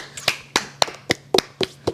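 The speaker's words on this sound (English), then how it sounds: "Round of applause for Tom Hanks." Slow, sparse handclaps from a small group or one pair of hands, seven crisp close claps spaced evenly over two seconds, with no talk.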